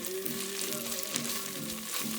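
Tomato paste being stirred into a meatball spinach soup in a pot, a continuous soft sizzling and bubbling wash with faint scraping, close and steady, with no talking.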